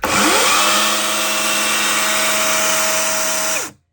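A Procraft PCA 42/2 cordless battery chainsaw spins up quickly to a loud, steady high whine, runs evenly for about three seconds, then cuts off and winds down abruptly.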